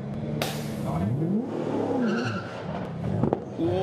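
Holden V8 SuperTourer race car pulling away from a pit stop at Pukekohe, engine revs rising and bogging down near stalling, with tyre chirps and a sharp transient, under faint background noise.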